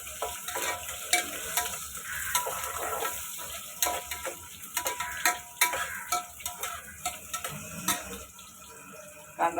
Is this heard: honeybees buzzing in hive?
no